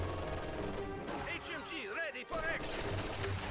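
LMG-42 machine gun fire crackles in a strategy video game, rapid bursts of shots mixed with other battlefield effects, fairly faint under a steady game backdrop.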